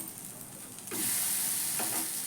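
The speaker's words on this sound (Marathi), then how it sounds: "एक साईडने भाजून घ्यायचं आणि नंतर मग पलटी करून घ्यायचा दोन्ही बाजूला जवळपास तीन ते चार मिनटं शिजू द्यायचा" A raw potato pancake for a fasting meal fries in a pan, a steady close hiss that turns louder and brighter partway through, with a soft scrape or two as it is handled and no talking.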